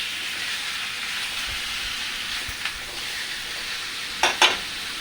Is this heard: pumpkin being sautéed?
yes